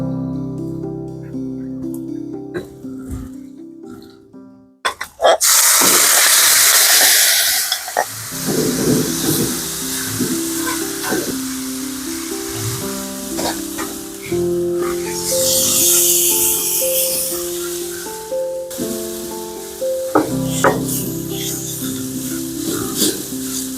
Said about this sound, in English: I'm gonna put the onion and the mushrooms in here by the side.